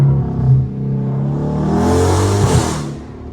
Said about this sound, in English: The downshift is crazy as hell.